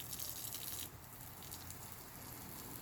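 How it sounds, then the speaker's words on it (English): Water spraying from an adjustable twist hose nozzle made of polyketone, a steady hissing gush that drops to a softer, finer spray partway through as the nozzle is turned, close and continuous. "So this is basically straight water, and then it constricts it."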